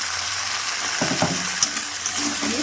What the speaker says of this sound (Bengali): ফুলকপি ভাজাগুলো দিয়ে দিলাম